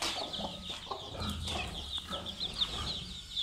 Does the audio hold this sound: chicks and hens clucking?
yes